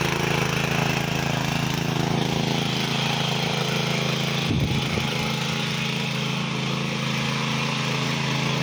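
A 7 horsepower mini power tiller engine drones steadily and loudly while weeding around the plants in a large garden, with one brief thump partway through and no talk.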